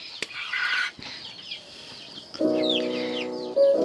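Rhode Island Red and native chickens being caught, loud alarmed clucks and squawks with bursts of wing flapping, close and alone with no talk.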